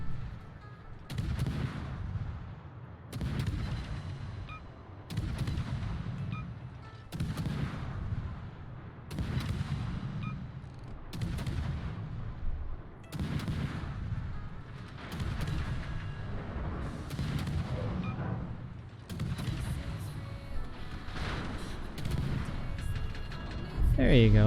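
Warship guns in a naval video game fire in a steady series of heavy booming salvos, each blast spaced a couple of seconds apart, with a voice talking faintly in between.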